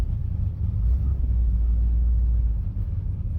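A custom 1958 Chevy rumbles steadily on the road, its deep, low engine drone loud and close from start to finish with no talking over it.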